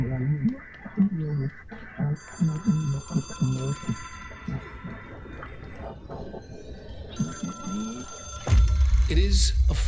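A phone rings in the video game Control, a repeated electronic bell tone under ongoing voices, ending in a louder burst of game noise.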